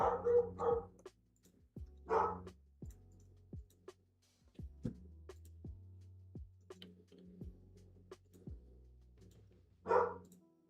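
Several dogs bark in short bursts at close range, with a few loud clusters of barking separated by quieter gaps.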